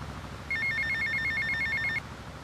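A payphone in Grand Theft Auto: Vice City rings with a rapid electronic trilling bell, one clear burst lasting about a second and a half over a low background hum.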